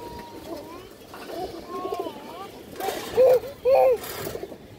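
Red-eyed pigeons cooing in short, loud rounded bursts near the end, with softer coos and someone talking throughout in a pigeon-selling setting.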